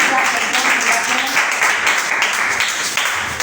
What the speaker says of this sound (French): Tu peux acclamer pour la parole de Dieu ce matin